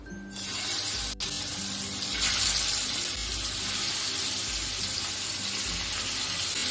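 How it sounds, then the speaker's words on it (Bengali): Aar fish pieces dropped into hot mustard oil, a loud burst of hissing sizzle that settles into a steady spattering fry, close and without talk. "তেলটা গরম হয়ে গেছে, মাছগুলো দিয়ে দেবো"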